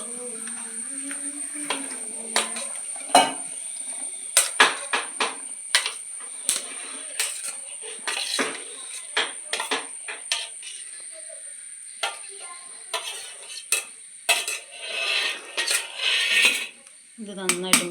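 A utensil clinks and scrapes against a bowl as coconut is mixed into appam batter, in a string of sharp, close taps and knocks with a faint background hum.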